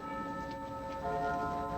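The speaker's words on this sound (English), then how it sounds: "That bell is 100 years old. And 4 minutes fast." A hundred-year-old bell ringing, its sustained tone humming steadily and faintly at a distance, with no talk over it.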